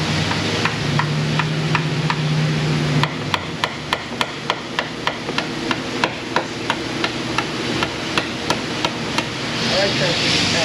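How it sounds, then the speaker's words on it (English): Icon dead blow hammer repeatedly striking a car part in a garage, a steady series of sharp, evenly spaced knocks close to the mic over a low background hum. "Use the old Icon dead blow. Get a little coercion out of it."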